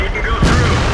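A single deep boom from tank gunfire in a tank battle video game featuring the T29, loud and close with a rumbling low tail, against steady in-game background noise.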